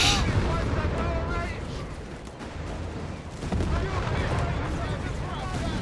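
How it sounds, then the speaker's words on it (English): Mine explosions in the Company of Heroes 3 strategy game, a continuous dense rumble of battle with booming blasts and gunfire over about six seconds, under a speaking voice. "That ace penalty just hit another mine"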